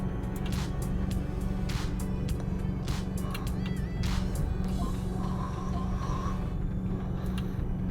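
An Isuzu D-Max pickup truck drives along at a steady pace, its engine and road noise forming a continuous low rumble, with scattered clicks and light knocks from the cabin and no talk.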